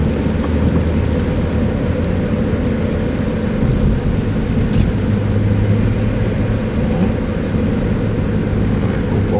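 A cheap, worn Audi A4 V6 quattro drives along with a steady, fairly quiet low engine and road rumble, continuous from inside the cabin with no talk.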